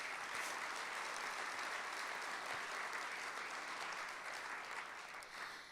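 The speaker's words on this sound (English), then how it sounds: "so let's give them a round of applause." An audience at a community lecture event claps for local business sponsors in a sustained, dense round of applause, steady throughout and easing slightly toward the end, with no voices over it.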